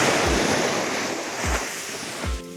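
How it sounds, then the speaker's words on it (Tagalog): Ocean waves crash close by three times on the Aurora coast, low booming surges over a constant roar of surf and wind. "Mas malakas yung alon dito compared to sa kabila."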